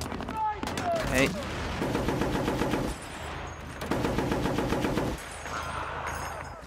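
Automatic rifle fire at enemies in the video game Battlefield: Bad Company comes in two sustained bursts of rapid shots, loud and close. A voice is briefly heard near the start.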